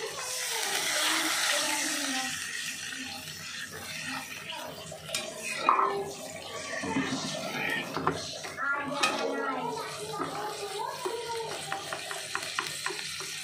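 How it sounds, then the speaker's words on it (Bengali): Water poured into a cooking pot of fish with ginger and garlic, giving a broad hissing sizzle with stirring and faint utensil clinks that continue throughout, while a voice speaks at times. "একটু হালকা পানি দিয়ে দেবো এবার।"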